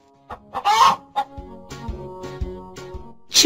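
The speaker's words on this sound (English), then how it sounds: "Chicken." A chicken clucks and squawks close by, short bursts of clucking with a louder squawk early and another at the end, no talk.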